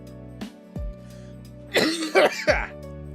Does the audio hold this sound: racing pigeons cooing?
no